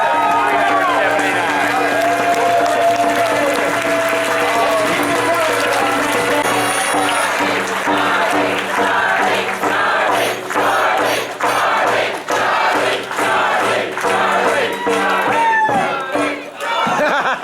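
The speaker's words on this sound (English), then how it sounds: "give yourself a huge round of applause" A large convention crowd claps and cheers over loud background music, the clapping growing into sharp, rhythmic bursts in the second half with shouting and voices mixed through the din.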